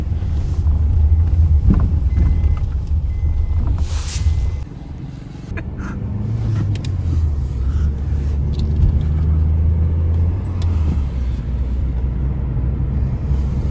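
A Maruti Ciaz sedan with about 100,000 km on it rolls along on a test drive after wheel alignment and balancing, its steady low engine and road rumble heard from inside, with no talk.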